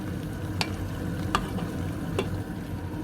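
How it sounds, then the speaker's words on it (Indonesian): Kohlrabi simmers in a pot with nasi kuning spices, cooked Texas cowboy style, as a utensil scrapes through it in three distinct strokes over a soft, constant bubbling sizzle; no talking. "Lalu diaduk"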